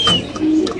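White King pigeons at a pigeon farm make short throaty coos, close and fairly loud, in a quick burst with a thin high bird call over it and no speech.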